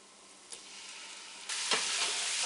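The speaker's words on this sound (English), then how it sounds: "when the chilies and the garlic start frying" Chilies and garlic frying in a pan for slow-cooker chili, a steady close sizzle that swells louder partway through, with a few sharp stirring scrapes and no talk.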